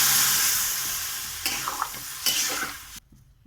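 Water poured onto sautéed fish curry spices in a hot pan hisses in a loud, steady sizzle with a few stirring scrapes, then cuts off abruptly near the end.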